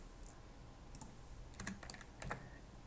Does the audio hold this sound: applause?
no